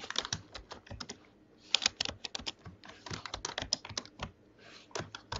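Column names are typed into a table on a computer keyboard: rapid, crisp key clicks in uneven bursts, close and clear, with brief pauses between runs of keystrokes and no talk.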